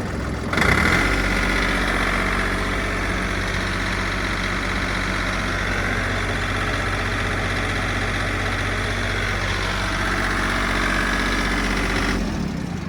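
A Mitsubishi MTR-300 mini tractor engine starts up abruptly, then runs with a loud, steady, close droning note that holds nearly constant before cutting off near the end.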